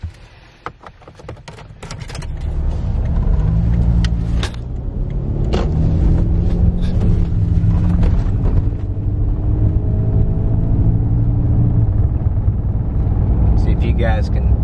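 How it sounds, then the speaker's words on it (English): A Toyota Tacoma pickup driving on worn tires at around 30 mph. After a few clicks at the start, a steady low road rumble and drone fill the cab and hold at constant loudness. "The wear on the tires is causing some vibrations"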